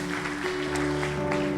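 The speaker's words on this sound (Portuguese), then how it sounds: "Vamos aplaudi-los mais uma vez." A church congregation applauds briefly while sustained music plays underneath, the clapping a soft, even patter across the short moment.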